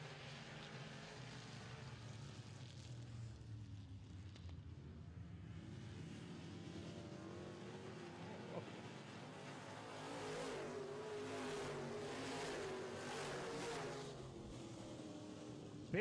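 Midwest Modifieds race cars circle a greasy, slick dirt track, their engines a distant continuous roar that swells and fades as the cars pass, faint and without talk.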